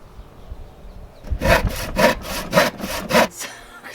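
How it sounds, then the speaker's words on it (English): A handsaw cuts a curve through a wooden board in a home workshop, with five or six steady rasping back-and-forth strokes, close and fairly loud, after a quiet start. "Cutting a curve with a handsaw is quite tricky"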